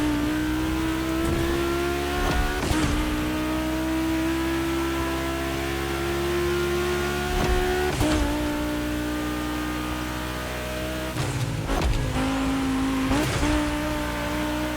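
Car engines rev loudly in The Crew Motorfest, held in a steady drone that swells and dips, with short bursts of tire squeal or gear changes breaking in several times across the stretch, and no voices.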